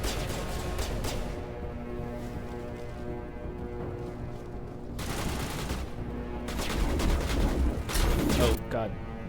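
Sustained gunfire from a Mass Effect firefight, dense bursts and volleys running throughout and swelling louder near the end, with a voice briefly talking over it.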